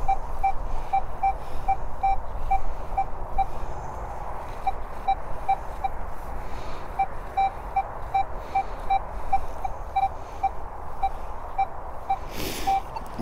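A metal detector sweeping over a buried target gives a fast, repeated series of short high beeps, steady and fairly loud above soft ground noise, with a few brief gaps and a scrape near the end.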